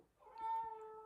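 A single drawn-out meow from a house cat, close by and fairly clear, rising then holding a steady tone for about half a second before fading.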